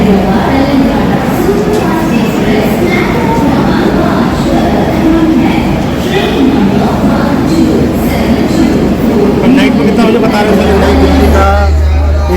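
The Himasagar Express rumbles at an Indian railway station platform, with a loud, continuous low rolling of train cars mixed with crowd babble and a deeper surge near the end.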